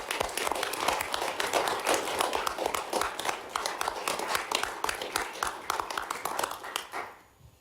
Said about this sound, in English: please join me in a round of applause for a wonderful accomplishment